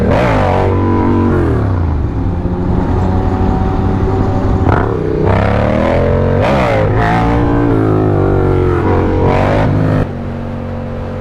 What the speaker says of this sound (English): if I find an empty road, cut to a wheelie right here, Jared.